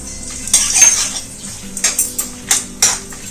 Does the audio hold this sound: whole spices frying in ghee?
yes